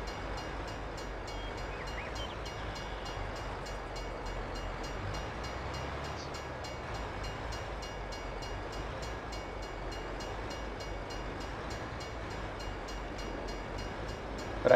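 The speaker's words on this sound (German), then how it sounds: "Zug kommt." Train passing in Farming Simulator 22, a low continuous rolling rumble with faint rhythmic wheel clatter, fairly quiet and steady throughout.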